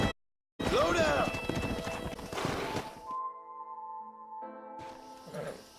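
Horse hooves clip-clopping followed by a whinny in a Western video game, with a short gap before the hooves start, then lower tonal game sounds and a brief burst near the end.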